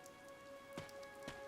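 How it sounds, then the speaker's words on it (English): Rain falls in the video game Fire Emblem: Three Houses as a faint, steady patter under sustained musical tones, with a couple of slightly stronger splashes. "This rain threatens a coming storm."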